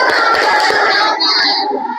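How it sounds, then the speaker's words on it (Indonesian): A classroom group claps together in a rhythmic 'tepuk semangat' cheer, a quick pattern of repeated claps, loud and close, with bright chanting voices running over the claps. "Kita buat tepuk semangat ya."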